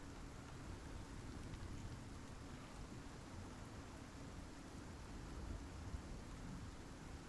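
Heavy rain pours during a thunderstorm in the game Icarus, a constant, even wash of hissing drops over a low, rolling rumble that stays level and fairly quiet the whole time, with no speech.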